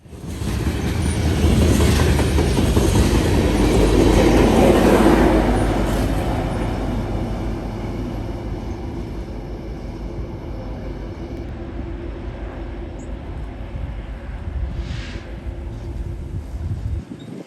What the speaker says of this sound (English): It's also a bonus that he has a BNSF SD70 ACE pushing on the rear of the train